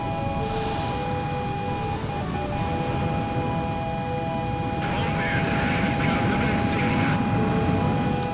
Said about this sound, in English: Several Erusian military aircraft are inbound and closing rapidly.